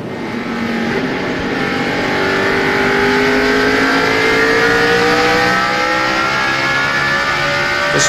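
NASCAR stock cars racing at the 2002 Pontiac Excitement 400, with loud sustained V8 engine roar and rising, shifting engine pitches as the cars accelerate up the hill, continuous and close, with no speech.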